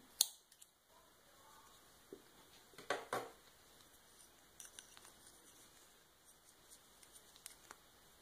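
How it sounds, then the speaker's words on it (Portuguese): Scissors snip through crochet yarn while a bathroom rug is being finished, a few faint, sharp clicks and snips in quiet surroundings with no talking. "Vou cortar esse fio."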